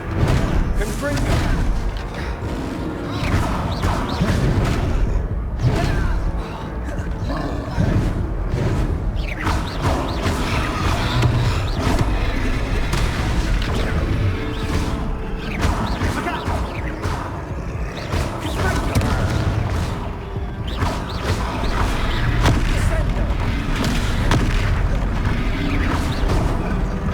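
Confringo explosive spells in Hogwarts Legacy on PC go off as repeated booming blasts and crackling bursts in a dense, continuous combat mix, loud and close, with a voice speaking now and then.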